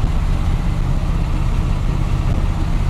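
A 1988 Chevy two-ton dump truck cruising in gear, its engine giving a steady, loud, low rumble throughout with no talking.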